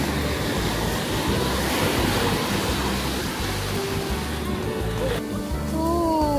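Strong ocean waves crashing on a La Union beach, a loud, continuous churning surf with wind buffeting the microphone, heavy and close throughout.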